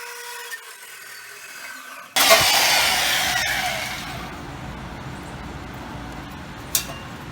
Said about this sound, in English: instead of a Sawzall, I'm going to use this thing. What's the name of it? I don't know. Portable bandsaw.